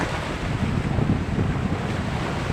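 Sea waves washing onto the shore under steady wind buffeting the microphone, a continuous rough roar with no distinct breaks and no voices.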